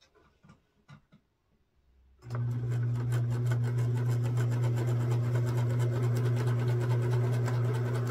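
A sewing machine runs a straight stitch along the scalloped edge of a vintage handkerchief quilt block. It starts after a couple of seconds of quiet handling and then keeps a steady, close mechanical hum with fast, even ticking.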